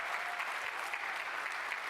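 Crowd applause at the Xbox One reveal event, a steady, dense wash of clapping that holds at an even level throughout, with no speech over it.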